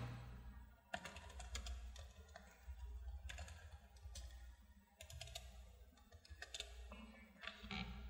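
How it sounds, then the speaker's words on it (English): Someone types a command on a computer keyboard in quick, uneven bursts of soft clicking keystrokes separated by short pauses, heard close and fairly quiet with no talking. "we'll type the following command"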